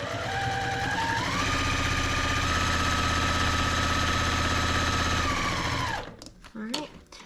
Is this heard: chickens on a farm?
no